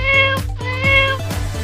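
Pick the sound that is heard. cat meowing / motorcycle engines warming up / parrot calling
cat meowing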